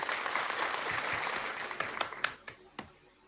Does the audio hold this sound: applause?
yes